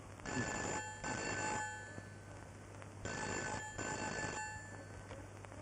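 A telephone rings twice in a domestic drama scene. Each bright electronic ring is a burst of about a second, and the rings come in paired bursts separated by short pauses. The sound is moderately quiet with a faint hum underneath.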